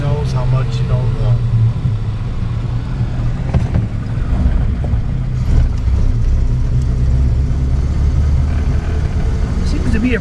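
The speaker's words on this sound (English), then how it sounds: "Seems to be a pretty good running car" A 1937 Buick's engine rumbles steadily while the car drives, a loud low drone with road and wind noise throughout, and people talk over it.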